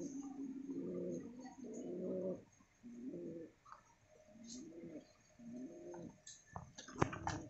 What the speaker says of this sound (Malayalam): സൂപ്പർ അല്ലേ പ്രാവ്.